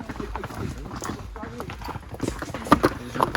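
Hooves of a small horse clip-clop along a trail near El Limon waterfall in the Dominican Republic, steady and close, mixed with people talking and a few sharper knocks near the end.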